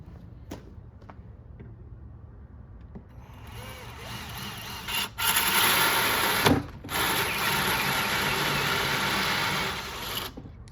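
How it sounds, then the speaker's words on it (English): A power drill bores through a wooden arcade cabinet panel with a loud, steady whirring grind close by, preceded by a few light taps and briefly cut off twice before running on. "What I like to do is drill halfway through until this pokes out the other side, flip it over and finish drilling it."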